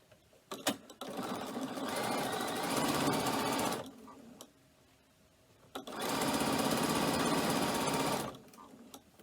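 A sewing machine stitches down the sides of a cork messenger bag at a long stitch length, running in two steady bursts of about three seconds each with quiet handling pauses between.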